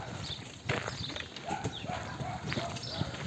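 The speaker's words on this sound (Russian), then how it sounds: "Это вот как раз лошадь, телега" A horse pulling a cart clops along outdoors, steady hoofbeats in a walking rhythm at moderate distance, with faint voices and background noise.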